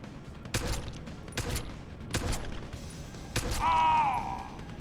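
Video game gunfire: four sharp, loud shots spaced roughly a second apart, followed by a brief ringing whine at the end, with no talking.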